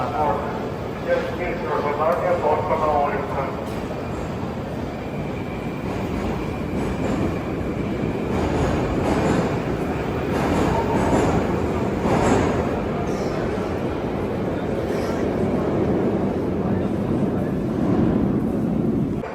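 A Moscow metro train rumbles and clatters along the rails with a steady roar and squealing wheels, while people talk nearby throughout.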